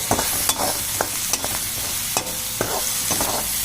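Green chillies with salt roast and are stirred in a pan, giving a steady close sizzle broken by repeated scraping strokes of the spoon, with no talk.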